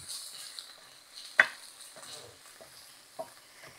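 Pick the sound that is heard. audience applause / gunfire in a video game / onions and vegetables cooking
onions and vegetables cooking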